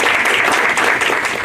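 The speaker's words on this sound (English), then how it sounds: "let's give these folks a big round of applause" An audience at a radio station's 25th anniversary dinner breaks into a big round of applause, loud, dense and sustained clapping close by with no talk over it.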